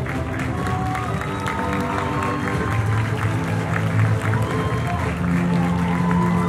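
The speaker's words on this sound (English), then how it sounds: "a big round of applause to both of them, please" A pageant audience claps and cheers in a hall while music plays underneath, a lively mix of applause and crowd noise that swells slightly toward the end.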